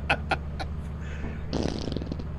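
A cartoonish fart sound effect in the video game Lethal Company, with a few short pops followed by a longer, sputtering blast, moderately loud over a low background hum.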